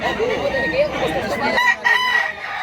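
A rooster at a Cebuano chicken seller's crows in a rising, wavering call that fades out partway through, then sharper, higher calls follow, with voices talking nearby.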